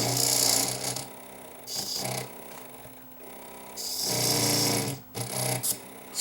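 Scraping inside a vintage Realistic 8-track stereo, with a screwdriver rasping in loud bursts over the low hum of the player's running motor, alternating with quieter stretches.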